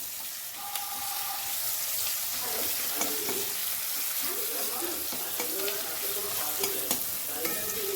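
Ginger garlic paste fries in a pan for an eachor chingre dish, a steady close sizzle with frequent scraping stirs and light clinks, plus a hint of running water in the background.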